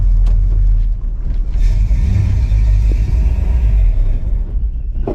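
A GMC truck engine revs hard and loud in second gear, a dense continuous low roar with a surge partway through, heard up close without speech.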